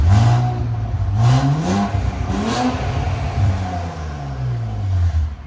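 A 2017 Infiniti Q60 Red Sport with a 3.0L twin-turbo V6, no catalytic converters and exhaust valves closed, revs repeatedly in loud, close rising and falling sweeps that fill the whole stretch.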